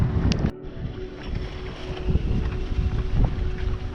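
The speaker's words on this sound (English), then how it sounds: "Now there's a little bit more wind" Wind blowing across a sailing boat at midnight in Kalmarsund near Degerhamn Bridge: a steady, close, broadband rush of air and water noise with gusty swells and no talk.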